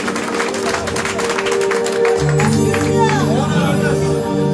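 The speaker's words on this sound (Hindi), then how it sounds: "एक बार तालियां तो बजेगा" An audience claps along at a Shyam Darbar kirtan, with a spell of steady hand claps over sustained harmonium-like music and a murmur of voices, the music swelling later.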